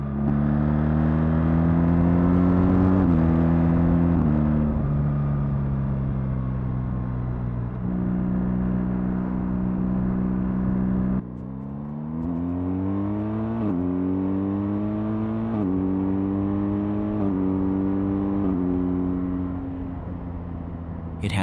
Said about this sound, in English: First of all, I really like the new engine.